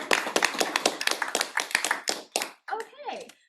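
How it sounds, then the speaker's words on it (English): A small audience at a school board meeting claps in a brisk, close, steady patter for a couple of seconds before it dies out and voices take over. "Let's clap for that too."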